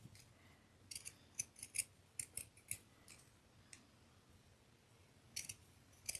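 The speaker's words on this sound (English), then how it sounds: "I'm going to take my pinking shears and just go right up to the edge of the heart" Pinking shears snip through fabric around the edge of a fabric heart doily, giving a series of crisp, close cuts in irregular bursts with short pauses between them.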